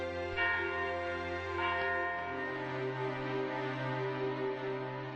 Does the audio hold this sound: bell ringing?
yes